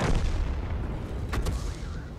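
Enemy artillery shells slamming into and around a KV-2 tank in World of Tanks, a loud continuous rumble of booming impacts with a couple of sharp cracking bursts near the end, no talk.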